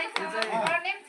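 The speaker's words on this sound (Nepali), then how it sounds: "ताली बजाउँ न।" Several sharp hand claps ring out at a family get-together, spaced unevenly over about a second amid background voices.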